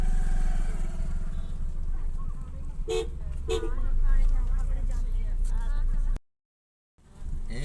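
Busy road traffic with motorcycle engines droning and a couple of sharp horn toots, voices talking throughout, then a brief dropout near the end.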